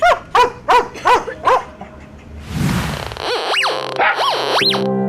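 A dog barks five times in quick succession, then a swishing rustle follows and a few rising, whimpering yelps close it out.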